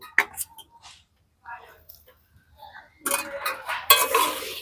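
Puffed rice is mixed by hand with jaggery syrup to make Joynagar moa, giving soft scattered rustles and scrapes at first, then a louder burst of crisp crunching toward the end, with someone speaking over it.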